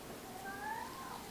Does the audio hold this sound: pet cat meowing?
yes